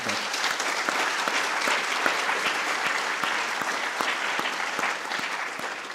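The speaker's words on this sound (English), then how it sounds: "just let's give her a round of applause" Meeting audience applauds a departing board member at an evening session, a full room of steady clapping sustained for several seconds, even and fairly close, with no talking over it.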